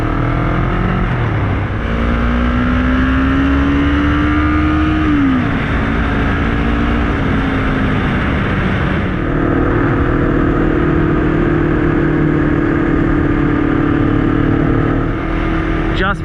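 A road motorcycle fitted with dirt tyres putts along a dirt road, its engine droning steadily and loud up close with gentle pitch rises and dips as it accelerates and eases off.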